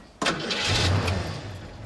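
An old Ford Mustang's engine cranks and catches with a sudden loud burst, then settles into a steady, rumbling idle close by.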